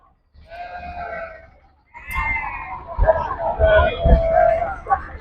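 Sheep meant for slaughter bleat at a livestock market in Gudur, a wavering call rising near and loud, then further bleats amid market chatter and crowd noise.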